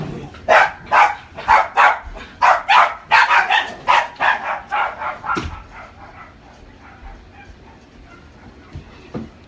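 Small dogs bark in a rapid, loud series of about a dozen sharp yaps close by, fading into quieter whimpers and scattered noises.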